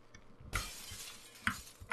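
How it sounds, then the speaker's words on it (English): Window glass smashing in the video game Happy Wheels, a sudden bright shattering crash followed by a tinkling tail and two more short glassy cracks, fairly quiet overall. "We smashed the window there"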